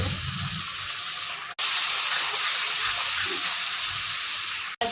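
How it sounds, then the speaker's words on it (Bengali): Water poured into a hot cooking pan already holding salt, red chili and turmeric for an eggplant mustard-poppy seed curry, giving a loud, steady, close sizzling hiss that runs throughout, broken by two brief silent cuts. "একটু জলটা দিয়ে দিলাম।"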